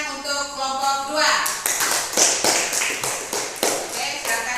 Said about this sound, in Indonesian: kita sama-sama memberikan tepuk tangan untuk kelompok 2